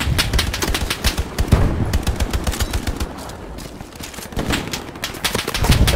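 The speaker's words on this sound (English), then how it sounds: "Maybe change spots every once in a while because we're taking fire now." Dense, loud gunfire in the World War II shooter Hell Let Loose: rapid machine-gun bursts and overlapping single shots crackle almost without pause, close and continuous.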